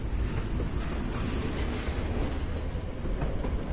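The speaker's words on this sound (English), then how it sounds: "Train." A train rolls past loudly and continuously in the video game Life is Strange, a dense rumbling rattle of wheels and cars heard alone.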